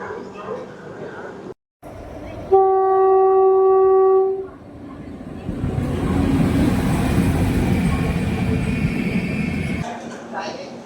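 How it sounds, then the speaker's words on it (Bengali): A passenger train at Lucknow station sounds a loud, steady horn blast for nearly two seconds, then a broad rumble of rolling wheels builds and holds as it gets under way. "আমাদের ট্রেনটি এখনই ছাড়বে।"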